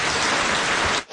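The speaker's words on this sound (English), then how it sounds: "Lots of rain" Heavy rain pounding down during an evening safari drive at Djuma Game Reserve, a dense, loud, continuous roar that cuts off abruptly at the end.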